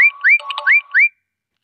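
A short, bright GoBiz app new-order notification jingle of rising chirps and a warbly middle note, loud and clear, followed by silence.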